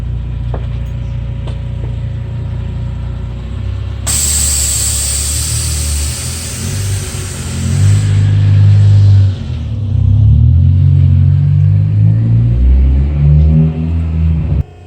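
Loud, close engine of a 2015 Honda Civic Si running with its muffler removed, rumbling steadily before swelling into deep, throaty revs that rise and fall in the second half, with a brief hiss partway through.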